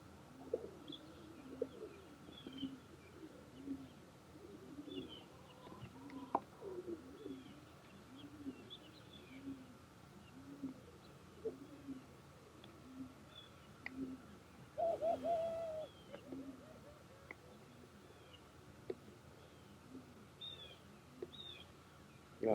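Roller pigeons cooing, with repeated soft, low coos in a loose rhythm over a quiet hum of background noise, plus a few brief faint chirps.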